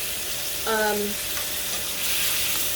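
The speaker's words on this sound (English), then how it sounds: "as soon as that meat hits hot oil, it wants to" A bone-in double pork chop sears in hot oil in a pan, giving a steady sizzle throughout. A short tonal whine sounds partway through, and the frying holds as a loud, close hiss under it.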